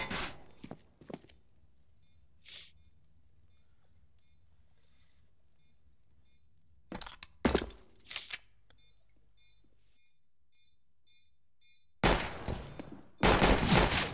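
Gunfire in a Counter-Strike esports match at the GameFest 2018 finals, scattered loud bursts of rapid shots separated by long quiet stretches with faint footsteps and ticking, the final two seconds dense with fire.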